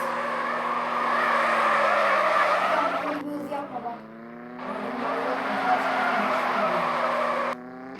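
Car tires squeal loudly in a long skid, the screech wavering in pitch, cutting out briefly, then continuing before stopping abruptly.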